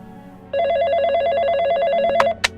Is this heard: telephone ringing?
yes